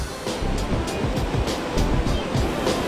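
Ocean swell surging up a sandy beach on Fraser Island, a continuous close, rushing wash of water with a broad roar and no voices.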